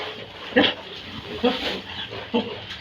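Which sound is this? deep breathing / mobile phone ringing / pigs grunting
pigs grunting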